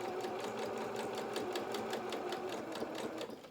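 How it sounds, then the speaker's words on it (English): A sewing machine stitches around a felt doll's foot, its needle running in a fast, even rhythm of close, quiet mechanical clicks, slowing at the very end. "And then we're going to just start sewing around."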